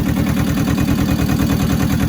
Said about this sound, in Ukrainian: І трактор їде, дає багато.